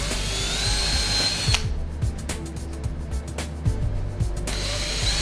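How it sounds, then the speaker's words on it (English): Power drill boring holes into a wall for mounting screws, loud close whirring bursts broken by pauses and clicking tool handling, no speech. "and drill the holes."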